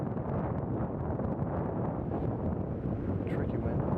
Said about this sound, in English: Tricky wind on the left-hand side, about 12 to 15 miles an hour.